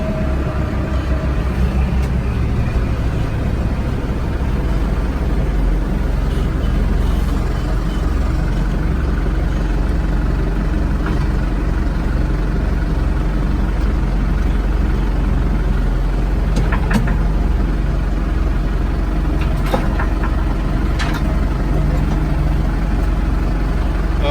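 A tractor engine runs steadily at low revs while the machine backs up to a quick-attach implement hitch, with a constant loud rumble throughout and no talking.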